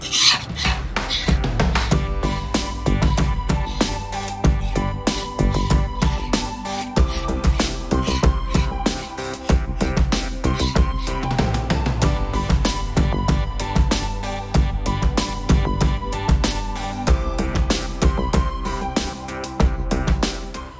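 Finely ground IC RAM chip powder being sieved, a steady loud rasping, rubbing shake that runs continuously and rhythmically through the whole stretch with no talk.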